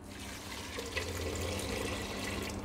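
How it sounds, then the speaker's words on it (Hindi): Water poured into a cooking pot holding chopped onion while making a hotel-style white gravy, a steady broadband rush and splash lasting throughout at moderate level, with no talk. "अब हम इसमें डाल देंगे पानी"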